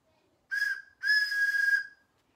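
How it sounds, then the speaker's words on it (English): A bright, high train whistle sounds twice at a preschool activity: a short blast, a brief pause, then a longer sustained blast, clear and close with nothing else around it. "Whenever you hear my train whistle"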